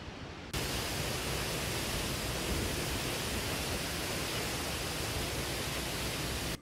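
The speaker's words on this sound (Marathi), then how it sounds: "पहिल्याच पावसात ठोसेघर धबधबा वाहू लागलाय" Thoseghar waterfall in the Western Ghats of Satara, flowing after the first monsoon rain, roars as a dense, unbroken wash of broadband noise, steady and constant throughout.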